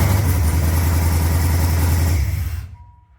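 A 1993 Camaro with a swapped-in 5.3 V8 idles loudly and steadily up close, its low rumbling pulse holding for over two seconds before cutting off abruptly into silence.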